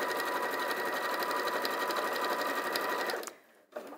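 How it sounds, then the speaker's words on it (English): A sewing machine runs a quarter-inch seam around a fabric yo-yo bag. Its close, steady motor whirr and rapid needle clatter last about three seconds, then stop with a soft clunk. "We'll just sew all the way around."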